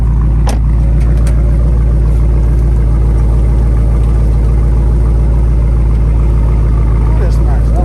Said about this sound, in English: Check out this engine.